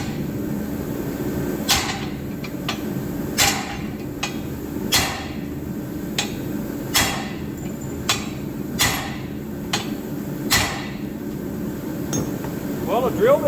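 Hammer blows knock a broken drill bit out of a car part on a 1940 Chevy coupe, sharp metallic strikes repeating roughly every second or so over steady background noise.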